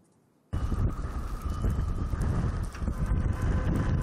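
Strong wind roars against the microphone with heavy low rumbling buffeting, starting abruptly and staying loud and gusty throughout.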